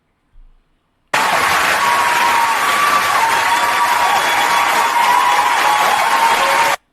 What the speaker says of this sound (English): And all the women cheering.